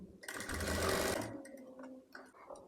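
A sewing machine stitches along the edge of a baby's party-wear skirt, a rapid close mechanical chatter for about a second that slows and gives way to lighter clicks and handling sounds.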